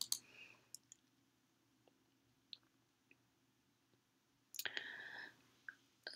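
Sharp mouse clicks on on-screen buttons in study software, a few isolated light taps spread apart, with a quiet rustle and a brief faint noise burst near the end.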